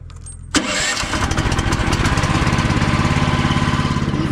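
A sawmill's small engine cranks with the choke on and catches abruptly, then settles into a loud, steady, rapidly pulsing run close by.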